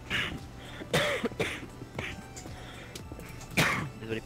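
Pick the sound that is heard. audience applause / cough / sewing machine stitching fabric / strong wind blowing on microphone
cough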